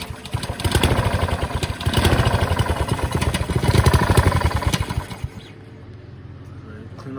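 A garden tiller's small engine, freshly repaired with a cleaned carburetor, runs close by with a loud rapid chugging putter for about five seconds, then settles into a quieter, smoother idle.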